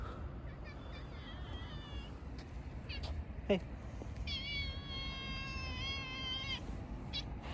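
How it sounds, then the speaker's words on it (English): A cat meows outdoors at night, a few drawn-out, high wavering calls near the start and a longer one later, over steady background hiss, with someone briefly speaking in between. "Oh, there's a cat!"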